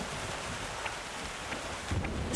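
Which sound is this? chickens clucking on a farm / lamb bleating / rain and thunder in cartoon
rain and thunder in cartoon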